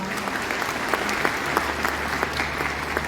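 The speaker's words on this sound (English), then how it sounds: "there has to be a round of applause" Audience applause at a women's university convocation ceremony in Peshawar: a large hall full of steady, even clapping that carries on throughout, with scattered sharper claps over a low hum and no speech on top.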